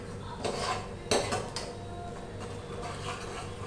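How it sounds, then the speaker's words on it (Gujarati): Palak rice ingredients are being stirred in a pot, giving soft clinks and scraping knocks of a utensil against the pot, faint and irregular, with no voices. "અને હવે આપણે એકવાર એને મિક્સ કરી દઈએ."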